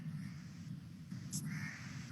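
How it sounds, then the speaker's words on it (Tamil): A crow caws once, faint and fairly distant, above a low steady rumble of background noise. "இங்க வந்ததுல இருந்து வந்து ரொம்ப பிரச்சனை பண்றது இந்த காக்கா மட்டும்தான்."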